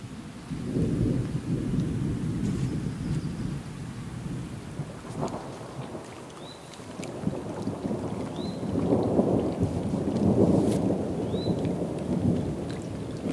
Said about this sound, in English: Sounds like it's about to storm.